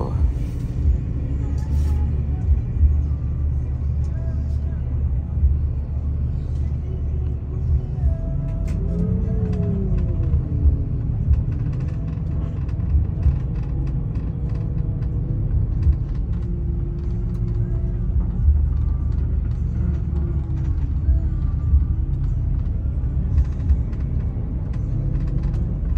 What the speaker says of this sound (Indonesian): Bodinya aja kelihatannya mulus, tapi mesinnya mesin tua nih.